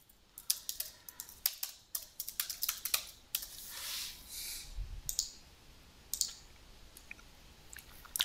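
Computer mouse clicks while exporting a Text CSV file from an inventory account, sharp close clicks in irregular bursts, some rapid and clustered, with quiet gaps between and no talking.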